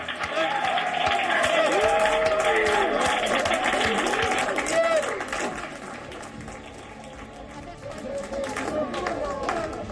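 A room of mission staff bursts into applause and cheering as NASA's Perseverance rover touches down on Mars. Loud, sustained clapping and excited shouts carry on throughout, mixed with overlapping voices.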